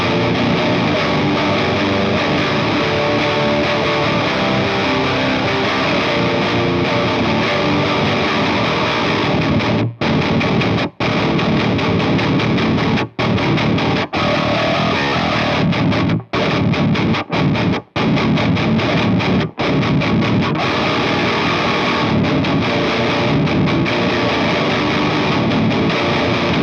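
Drop-tuned Greco MSB-1000 baritone guitar on the bridge pickup in single-coil mode, played through a 6505 amp with a Tube Screamer in front, giving a thick, loud distorted chug with several sharp palm-muted stops.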